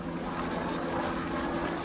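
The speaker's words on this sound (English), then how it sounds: "There goes a helicopter." A helicopter passing overhead outdoors, its rotor and engine drone forming a continuous loud rumble that fills the short stretch evenly, with no talk heard over it.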